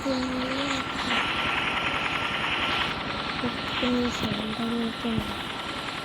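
A steady helicopter drone with rhythmic rotor chop fills the clip, while a voice talks over it in short bursts.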